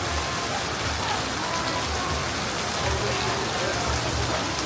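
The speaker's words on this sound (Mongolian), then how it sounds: "Амар бороо орж." Steady rain falls on a tropical Bali street, a dense, even patter that stays constant and moderately loud throughout, with no voices heard.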